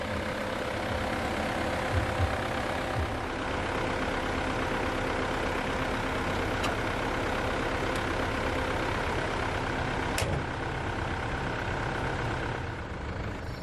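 A 3.2-liter DID turbocharged inline four-cylinder diesel in a 2000 Mitsubishi Pajero Exceed runs at a steady idle, a continuous low, even engine drone that holds from start to finish with no voices over it.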